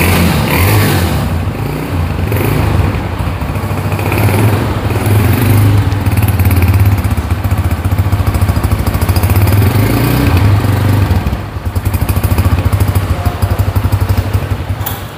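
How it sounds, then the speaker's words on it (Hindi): Honda CG150 motorcycle engine running after start, a steady close idle with a constant low thrum and light mechanical clatter lasting throughout, loud and unbroken, with no talking. "तो बाइक स्टार्ट हो चुका है अभी, और इसका साउंड भी आपको चेक करवा देते हैं।"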